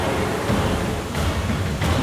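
A cartoon waterfall roars as a loud, dense, continuous rush of broadband water noise with faint surges, filling the whole moment without speech.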